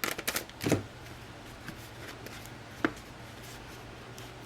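Close, soft shuffling and flicking of Felicity Jane pocket page cards being handled, with a few light taps and clicks, quiet and without speech.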